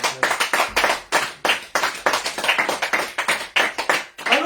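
Audience clapping during a sermon: uneven bursts of hand claps from a modest group, close and sharp, with brief gaps between claps and no sustained roar.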